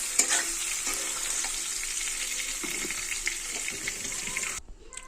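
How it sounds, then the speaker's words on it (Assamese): Paneer frying in oil in a kadai, a continuous bright sizzle with occasional stirring scrapes, the frying sound cutting off abruptly near the end. "পনীৰখিনি ভাজি ল'লোঁ।"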